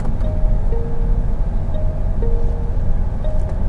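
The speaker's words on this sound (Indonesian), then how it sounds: "denger deh suara sennya" A BYD Dolphin electric car's turn signal sounds as soft two-note blips repeating about every one and a half seconds over a steady low rumble.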